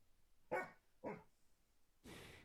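A dog in the video game Alt Frequencies barks three times, two sharp barks half a second apart followed by a longer, breathier third, fairly faint and alone.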